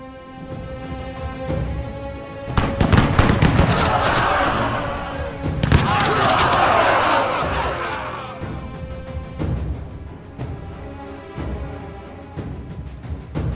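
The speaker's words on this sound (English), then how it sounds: "So we're gonna try suppressing fire here." Gunfire in a battle in the video game We. The Revolution: loud, dense volleys and crashing bursts that swell twice, then thin into scattered single shots.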